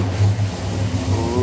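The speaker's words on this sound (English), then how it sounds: "It's a cold start." A 1969 Dodge Charger with an EFI engine starts from cold, giving a steady, close, rumbling idle with slight revving swells.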